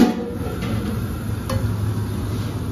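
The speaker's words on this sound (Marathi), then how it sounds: "कांदा फ्राय करायचं चालू आहे आमचं." Onions frying in a pot for dum biryani, a steady close sizzle and stir with faint clinks running the whole time, no voices.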